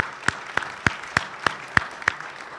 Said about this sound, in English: So let's give Kyle Williams a round of applause.